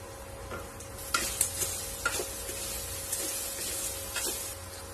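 Crushed crab sizzles and crackles steadily in a hot pan, with occasional stirring scrapes and clicks, fairly quiet and close, no voices.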